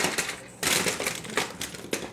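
Tin foil being handled and crumpled in a kitchen, loud crinkling bursts in quick succession close to the listener, with no talk.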